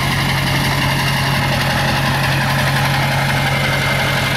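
Ford pickup with a 6.0 diesel idling outdoors on a mountaintop, a steady, loud, even rumble with a constant low hum and no talking.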